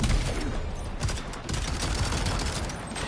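Dense, rapid pistol gunfire in the video game Death Stranding 2, a loud continuous volley of overlapping shots lasting a few seconds.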